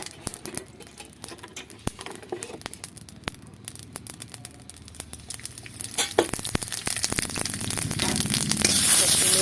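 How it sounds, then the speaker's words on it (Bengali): Cloves, cumin, chili and bay leaf fry in mustard oil with a dense crackling sizzle and spattering pops close by, the sizzle building louder and brighter toward the end. "লবঙ্গ জিরে লঙ্কা তেজপাতা ভেজে তুলে নেবো"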